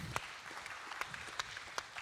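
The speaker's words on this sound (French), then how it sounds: "Applaudissements pour ces visionnaires." Light applause from a seminar audience at a round-table session, with a few sharp distinct claps standing out over a thin, scattered patter.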